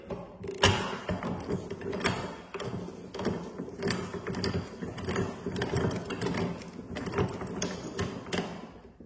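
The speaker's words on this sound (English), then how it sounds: "now we'll close the lowering valve by turning the handle all the way to right." Turning the handle of a jack to close its lowering valve gives close, repeated mechanical creaks, clicks and ratcheting knocks in an uneven rhythm throughout, with no talking.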